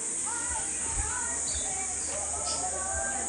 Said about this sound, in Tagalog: So, yun, may mga ibon.